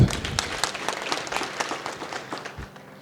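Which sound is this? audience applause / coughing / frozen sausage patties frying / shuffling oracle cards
audience applause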